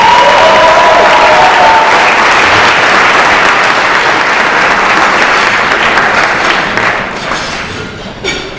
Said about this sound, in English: please give him a round of applause for all of his service